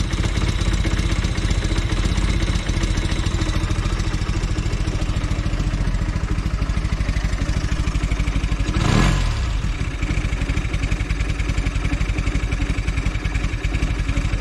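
A Velocette motorcycle engine idles low at about 700 RPM, a steady, close, even stream of rapid thumping pulses with no voices over it.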